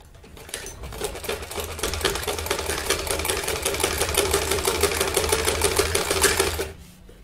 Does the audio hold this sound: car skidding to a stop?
no